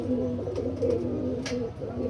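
Soft, low coos from a mated pigeon pair roll on steadily, close and continuous, with a couple of faint rustles.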